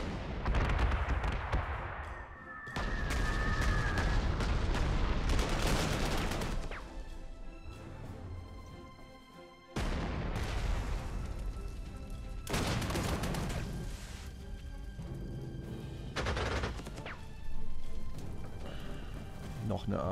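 Artillery and gunfire from a Panzer Corps 2 World War II strategy game as pioneer troops attack a tank, with repeated loud booming bursts and crackling volleys in dense waves, and someone talking intermittently over the battle.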